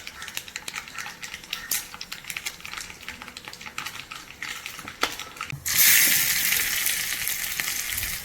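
Mustard seeds hit hot oil in a pan for a Kerala-style curry, setting off a sudden loud burst of crackling, spattering sizzle that keeps going after a stretch of faint, scattered clicks.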